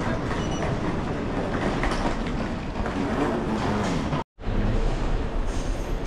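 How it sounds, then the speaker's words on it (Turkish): Marconi Express airport shuttle train in Bologna, Italy, rolling with a steady loud rumble and rail noise throughout, broken by one brief near-silent gap before the running sound resumes. "Marconi Express merkeze gidiyor."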